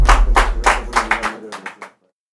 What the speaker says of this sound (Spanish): Un aplauso, Matías.